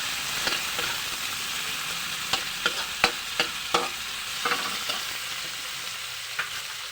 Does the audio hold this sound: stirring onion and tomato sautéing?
yes